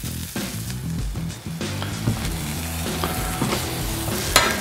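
Onions sizzle on a Blackstone griddle beside ribeye for a cheesesteak, a loud, close crackle with spatula scrapes and clinks over the griddle's steady hiss, no talking.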